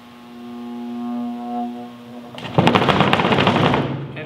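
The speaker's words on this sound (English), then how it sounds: "I can hear this motor working in there." A homemade dirt sifter's electric motor on a variable speed controller gives a steady humming tone, then a sudden loud, broadband rattling and shaking takes over and stays up close to the end.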